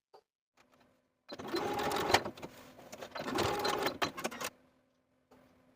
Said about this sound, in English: I'm going to take it to my sewing machine and tack those edges of the seam allowance in place